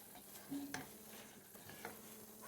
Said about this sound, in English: I'm just going to keep stirring that, get all the lumps and the dry